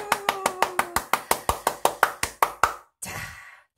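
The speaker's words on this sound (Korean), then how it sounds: "자기를 위한 박수 크게 쳐보실게요" A string of about fifteen sharp hand claps in a steady, fairly quick rhythm, close and clear with no talk over them, played by one person at home and ending in a short breathy sigh.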